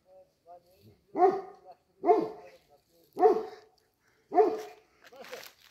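A dog barks four times at a slow, fairly even pace, with short whimpering sounds between the barks, moderately close.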